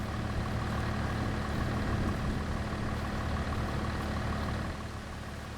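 A tractor engine in a logging roleplay game runs at a steady, heavy drone and eases off slightly near the end, with no speech.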